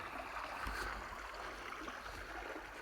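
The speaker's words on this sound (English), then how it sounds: "It's actually quite a pretty creek." Water flowing along Buenba Creek in alpine bush country, a steady, quiet rushing wash with no voices over it.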